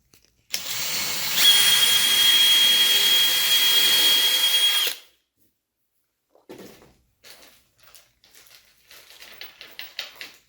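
A power drill drives screws into the hinge holes of a solid core door, one steady high whine lasting about four seconds, followed by faint clicks and light handling noises.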